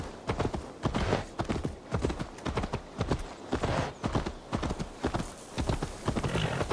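Horse hooves pound in a quick, rolling gallop rhythm in the video game Assassin's Creed Valhalla, fairly close and steady, with a faint voice briefly underneath.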